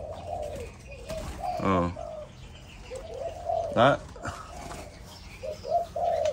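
Malaysian spotted doves in a breeding farm coo repeatedly in soft, rhythmic phrases close by, with a couple of louder calls and a brief spoken word over them.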